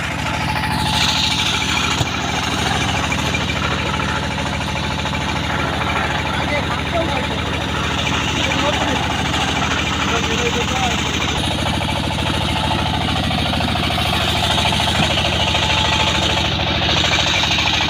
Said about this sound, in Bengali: মাটি কিন্তু বের হয়ে যাচ্ছে মেশিনের সাথে